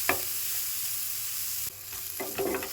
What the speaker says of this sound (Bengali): পেঁয়াজটা আমি আলুর সাথে একটু হালকা করে ভেজে নেব।